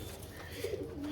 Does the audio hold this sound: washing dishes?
no